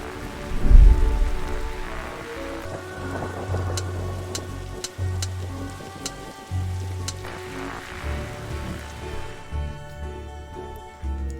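Stormy weather in The Darkside Detective, a video game: steady rain patters under a low rumbling drone, with a few faint sharp crackles scattered through and no speech.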